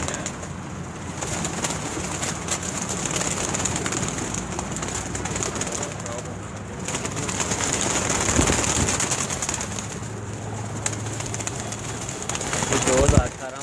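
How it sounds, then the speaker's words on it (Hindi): A Malangi pigeon, a breed flown in Gujar Khan pigeon competitions, coos low and steadily through an outdoor scene with bird calls, people talking and a brief background rumble. "ये मलंगी कबूतर है जनाब"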